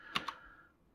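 Two quick keystrokes on a computer keyboard while typing an address, close and crisp with a short decaying tail, otherwise quiet.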